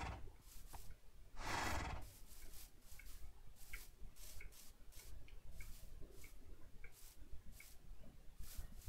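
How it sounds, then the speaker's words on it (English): A Minecraft horse whinnies once loudly near the start, followed by repeated short snorts and clicks over a noisy background. "Horses."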